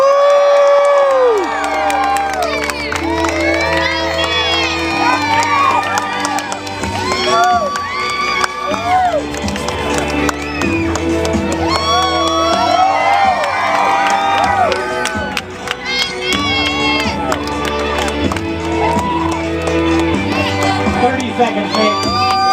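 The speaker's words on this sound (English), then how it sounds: "You guys make some noise, give us some encouragement." A beach crowd cheers, whoops and shouts encouragement loudly and without pause, with children's voices among the roar and occasional clapping.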